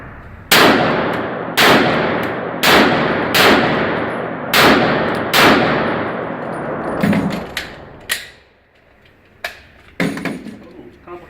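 Pistol shots ring out at an outdoor range during a double tap drill: six sharp, loud reports in quick pairs and singles, then quieter clanks and handling noises as the shooting stops.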